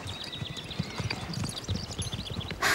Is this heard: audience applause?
no